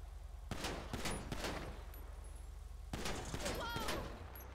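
GTA V gunfire: two clustered bursts of shots, one early and one later, moderately loud amid steady background noise, with a voice talking faintly underneath.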